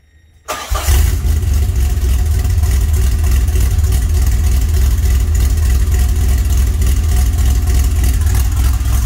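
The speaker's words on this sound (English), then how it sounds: "Now we're going to start the car." A 1981 DeLorean with a carbureted engine cranks briefly and catches, then settles into a loud, steady idle with an even low rumble that runs close and unbroken to the end.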